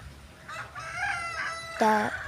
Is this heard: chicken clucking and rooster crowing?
yes